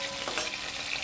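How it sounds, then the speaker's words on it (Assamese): Half-fried chicken pieces sizzle in a kadai of hot oil, a brief, steady, close frying hiss. "এতিয়া মাংসখিনি কেৰাহীত নমাইছোঁ"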